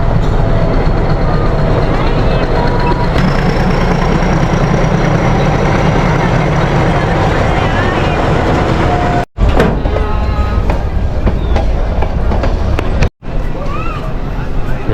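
A toy train rumbles and clatters steadily nearby as it pulls away from Lovedale station near Ooty, with a faint whistle-like tone and two brief dropouts near the end.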